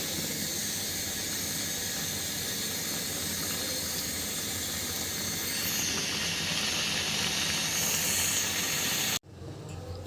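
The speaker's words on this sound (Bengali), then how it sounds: "এগুলো হলো বিভিন্ন রকমের সবজি দিয়ে ভাজি বানাচ্ছি" Mixed vegetables sizzle in a frying pan as a dense, steady hiss of frying, loud and continuous for about nine seconds, then cutting off abruptly to quieter background.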